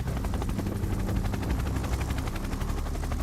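An Indian Air Force helicopter sits on a Siachen helipad as soldiers load supplies, its rotor thumping in a loud, rapid, steady chop with engine roar throughout, close and without talk.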